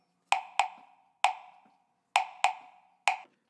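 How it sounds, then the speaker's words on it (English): Wood block percussion sample triggered on a Boss RC505 loop station: six sharp hollow knocks in an uneven rhythm, each clean and decaying quickly, heard alone with no voices. "I've got a block."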